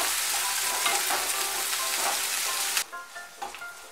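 Bitter gourd frying in a pan of oil, a close, bright crackling sizzle with stirring that drops away sharply near the end to a quieter simmer.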